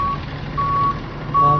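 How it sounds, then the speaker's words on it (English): A garbage truck reverses on a snowy Toronto street, sending out evenly spaced high electronic beeps, clear and fairly close over a low engine rumble. "every Monday is garbage car come out taking the garbage"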